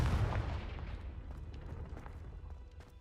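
The Confringo spell fires in Hogwarts Legacy as a loud, booming blast that rumbles and slowly decays over a few seconds, with no voice.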